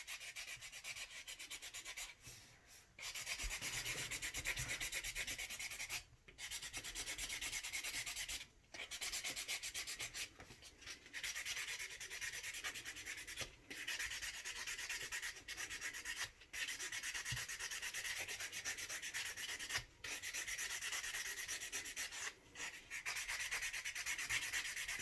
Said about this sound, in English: I will take a little buffer like this and use the side that says remove ridges, and I will use that to just gently buff the top of the nail.